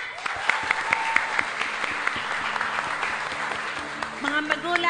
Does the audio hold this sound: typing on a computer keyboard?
no